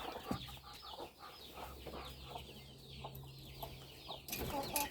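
Hens cluck softly around a laying hen in a poultry house, short repeated clucks and calls at close range over a faint background hum, with a brief louder rustle at the end.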